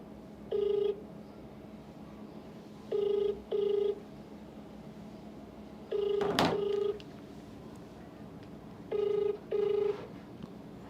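An unanswered telephone ringing down a phone line, in paired ring bursts that repeat at steady intervals over a faint background hiss, with no voice picking up.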